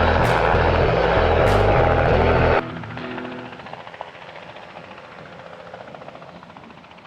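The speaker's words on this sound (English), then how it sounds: "And the helicopter is not the only thing helping me out in the skies above the farm." A helicopter flies low over a farm field. Its loud, steady rotor and engine roar fills the first two and a half seconds, then drops away to faint, distant rumble.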